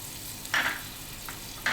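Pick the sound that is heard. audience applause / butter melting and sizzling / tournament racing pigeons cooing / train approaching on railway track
butter melting and sizzling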